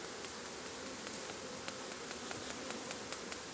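A honeybee swarm being collected into a box in April buzzes as a steady, dense drone close by, with individual bees flicking past, and no speech.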